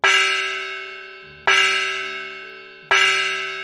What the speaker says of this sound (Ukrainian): Матеош узяв молоточок на ланцюжку і три рази вдарив їм у гонг.